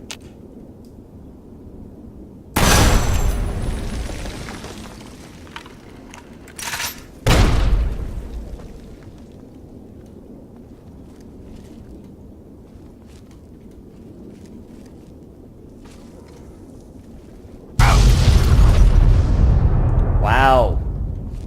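Land mines set off by a Brahmin blow up in Fallout: New Vegas, three loud booming blasts spaced several seconds apart, each with a broad roaring burst and a rumbling tail, the last one longest.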